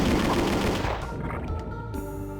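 A plasma rifle in Doom 2 fires a dense, rapid burst of energy shots that fades after about a second, leaving a quieter ringing tail under game sounds.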